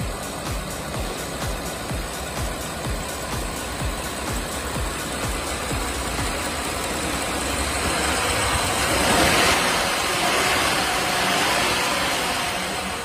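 A Rolls-Royce 6.75-litre V12 engine idles smoothly and evenly nearby, a steady low hum that swells slightly toward the end, with no voices.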